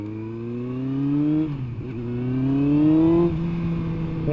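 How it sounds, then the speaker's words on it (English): A Yamaha R1 motorcycle runs just after its carburetors were cleaned. The engine hums close by, its pitch easing down and then rising again in smooth swells. "look at that idle. Thing's idling dead on."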